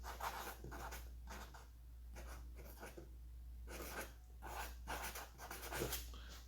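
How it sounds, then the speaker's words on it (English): Quiet scratching of a pen across paper in short bursts and strokes, close by, with pauses between, over a faint low hum. "I gotta write that on the side."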